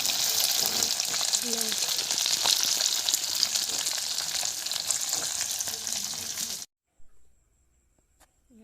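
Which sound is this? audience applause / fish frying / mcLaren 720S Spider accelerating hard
fish frying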